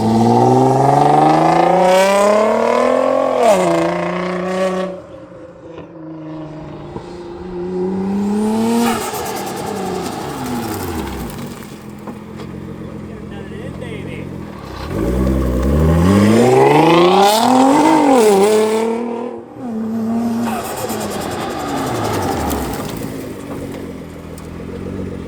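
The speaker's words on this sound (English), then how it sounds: "I forgot how good the Valvetronic exhaust sounds." A Nissan R35 GTR with a Valvetronic exhaust accelerates hard in loud, rising pulls. Revs climb and drop through several sweeps, with a quieter gap between two strong runs.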